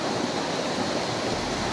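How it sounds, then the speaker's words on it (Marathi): A stream swollen and running hard after heavy rain, its water rushing in a steady, dense roar close by with no voices over it. "तर व्हाळाला किती पाणी सुटलं आहे"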